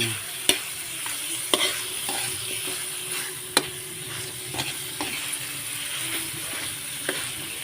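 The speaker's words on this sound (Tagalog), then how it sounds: "Gisahin lang natin yan guys." Leftover galunggong fish sizzles as it is sautéed in a pan for a mung bean dish, steady frying hiss broken by repeated sharp clicks of a utensil scraping and stirring, close and without talk.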